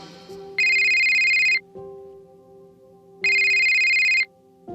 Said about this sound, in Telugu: ఇంతలో ఆకాష్ భోజనం చేస్తూ ఉండగా అతని మొబైల్కి మీరా నుండి కాల్ వచ్చింది.